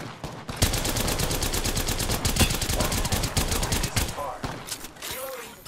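Rapid automatic gunfire rattles in a shooter video game, a sustained fast burst of evenly spaced shots for about three seconds, followed by scattered sounds and a brief voice callout.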